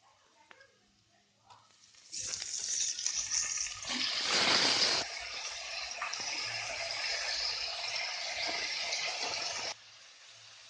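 Sweet potato masala with curry leaves sautéing in a pan, a loud, steady sizzling hiss that starts after about two seconds and runs unbroken for nearly eight seconds before dropping away.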